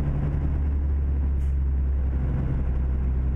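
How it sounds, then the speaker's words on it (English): Deep, steady low-rpm engine drone of a Mack R700 truck in a video game, rumbling evenly without revving up, with a brief faint hiss partway through. "Let's hear a low revving engine in this thing."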